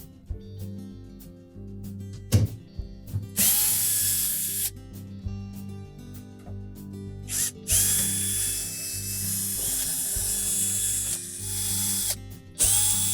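Ratchet screwdriver clicking rapidly while Torx screws come out of a Whirlpool dishwasher door panel, several bursts of ratcheting separated by pauses and small knocks, close by.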